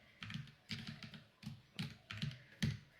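Keys clatter on a computer keyboard as a command is typed into a terminal, coming in short close bursts of taps separated by brief pauses, with no voices.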